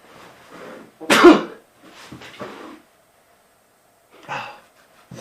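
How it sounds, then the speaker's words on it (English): A sharp, loud sneeze bursts out close to the microphone, surrounded by softer breathy throat noises and murmurs. "we're just going to ignore that you sneezed there"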